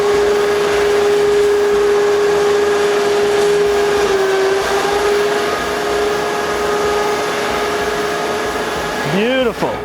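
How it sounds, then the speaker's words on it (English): Electric winch in the bed of a custom 2019 GMC Sierra hunting truck reeling in, a steady droning motor hum with a constant whine that runs nearly ten seconds, ending in a brief rising-and-falling squeal. "It has a winch in the back, which Dawson is going to demonstrate for us here. Go ahead, winch it in."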